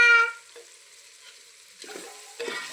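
Khichdi tempering sizzles in a pan just after tomatoes go in, with a loud initial hiss that settles to a steady fry, then two bursts of stirring and crackle toward the end, no talking.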